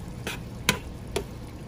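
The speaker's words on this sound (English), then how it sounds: "I'm just gonna give it a nice little stir." A spoon scrapes through cooking rice in a pot for a vegan BBQ chick'n taco meal, giving three soft, separate stirring scrapes about half a second apart, close by and quiet with no voices.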